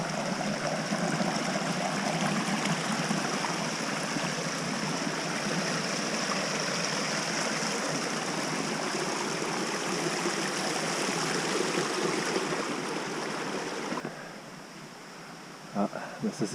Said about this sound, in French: Ici on marche sur un petit ruisseau.